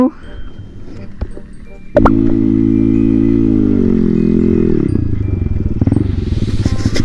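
A motorcycle engine revs loudly and close while riding through mud, holding a steady drone that rises and falls, with clattering and splashing bits and people shouting over it.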